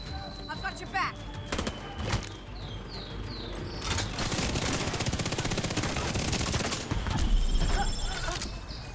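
Rapid automatic gunfire aimed at a turret in a first-person shooter game, loud bursts rattling on for several seconds amid clanking effects and a few whooshing sounds.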